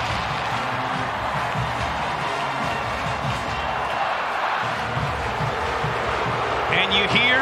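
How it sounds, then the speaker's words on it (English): A stadium crowd roars at a college football rivalry game between Clemson and South Carolina at Williams-Brice, a broad, steady wash of noise with a commentator talking over it throughout. "you hear the crowd react to the arch rivals, the Clemson Tigers."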